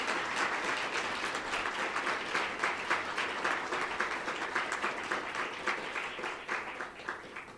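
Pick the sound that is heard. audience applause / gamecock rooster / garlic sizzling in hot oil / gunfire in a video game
audience applause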